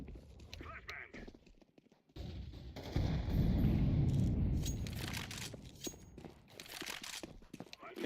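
Flashbang blast and bursts of gunfire in a tactical shooter video game, a loud sustained roar after a brief silence, with scattered shots and voice callouts around it.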